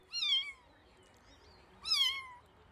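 Kitten meowing in the Pathfinder: Wrath of the Righteous video game, two clear high meows spaced about a second and a half apart against quiet background.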